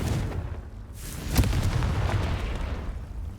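A Confringo fire spell from the Hogwarts Legacy game bursts in one sharp explosive blast partway through, trailing into a rumbling low roar, loud and close with no talking.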